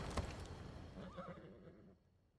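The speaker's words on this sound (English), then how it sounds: "I thought Adonis could make good use of this horse." A horse in Assassin's Creed Odyssey gives a short, close whinny with a faint hoof clop at the start, fading out within a couple of seconds.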